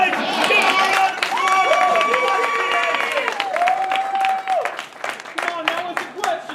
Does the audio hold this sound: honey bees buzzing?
no